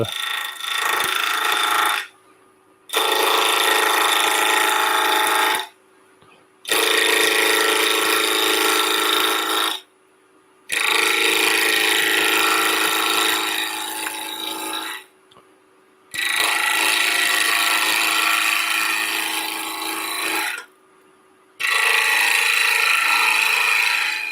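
A wood lathe spins at 1500 RPM while a gouge turns a piece of wood, giving steady loud rasping cuts in bursts of several seconds, separated by short pauses.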